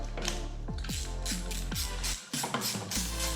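An Allen key works a brake caliper screw loose during a brake pad change, giving close, repeated metallic ratcheting clicks in a steady rhythm.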